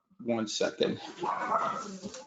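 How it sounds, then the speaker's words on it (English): Dogs yelp and whine briefly near the start, then fade under someone talking indoors. "I'm sorry for the dogs."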